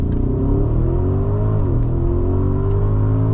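A 2023 Audi SQ8 Prestige with a 4.0-liter turbocharged engine pulls hard under acceleration, a loud, steady engine drone rising in pitch, dipping briefly at a gear change, then climbing again, heard from inside the cabin.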